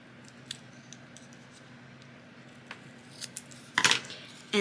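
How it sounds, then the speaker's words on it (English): Scissors snip through paper during a papercraft rosette project, a few faint cuts followed by one loud, close, crisp snip near the end, set against a quiet room hum. "I'm going to take this one and cut it here."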